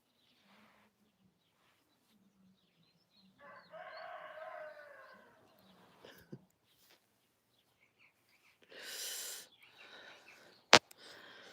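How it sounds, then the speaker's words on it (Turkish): A rooster crows, not far off, a drawn-out call in a quiet morning setting, followed by a few short clucks and a sharp click. "bazen o öten horozun adı Efe"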